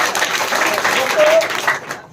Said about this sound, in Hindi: इनके लिए एक जोरदार ताली बजाइए।